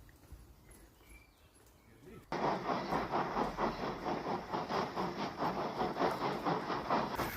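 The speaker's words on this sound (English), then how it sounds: "A goods train, a goods train, a goods train." A goods train rolls through a station, its wagons sounding as a loud, steady rhythmic clatter with hiss that begins abruptly after a quiet opening and continues to the end.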